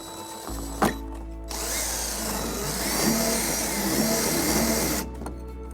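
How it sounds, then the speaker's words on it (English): A power drill with a 1/4-inch bit whirs steadily for several seconds drilling a hole in a 2020 Toyota Sienna, starting after a sharp click and cutting off abruptly, loud and close. "we're going to use a 1/4-inch drill bit to drill our first hole."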